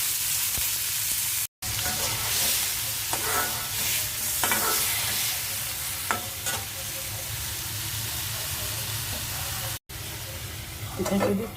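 Tomatoes with salt fry and sizzle in a pan with occasional stirring, a steady close hiss running throughout with two brief dropouts.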